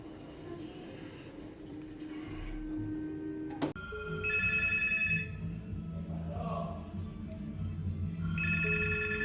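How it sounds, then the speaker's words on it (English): Telephone ringing, repeated electronic ring bursts in short pulsed trills, moderately loud and close, with a sharp knock partway through and a soft background murmur. "Answer the phone."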